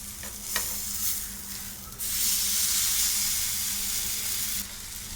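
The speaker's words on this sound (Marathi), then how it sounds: "परतून घेऊया" Eggplant slices for Maharashtrian vangyacha kaap sautéing in a pan, with a close, steady sizzle and a few early spatula scrapes, the hiss swelling louder midway and staying strong.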